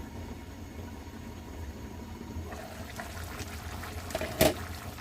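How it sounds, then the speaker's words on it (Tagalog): Water added to pochero sauce in a pan, a quiet trickle that builds into a brief louder splash and sizzle near the end, close by with no talking. "nag-add lang ako dito ng konting tubig kasi natutuyo na yung ating sauce"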